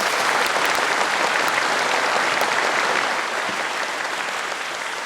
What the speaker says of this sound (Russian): Давайте бурными аплодисментами пригласим президента Путина выступить с речью